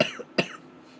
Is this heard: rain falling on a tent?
no